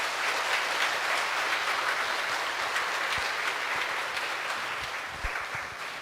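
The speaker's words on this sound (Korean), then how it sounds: "큰 박수로 맞이해주시면 감사하겠습니다." A hall audience at a charity concert for heart disease patients breaks into sustained, dense applause that holds steady for several seconds before easing slightly toward the end.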